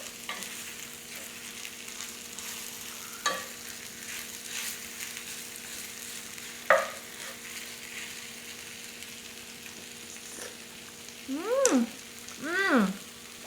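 Cheesy chicken fried rice sizzles steadily in a pan while a utensil stirs and scrapes through it with occasional clinks. Brief chirping squeaks rise near the end above the continuous frying hiss.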